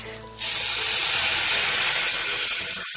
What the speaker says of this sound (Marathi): आपल्याला पाणी चांगलं उकळून घ्यायचं आहे